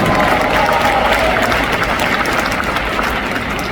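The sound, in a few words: audience applause for Amway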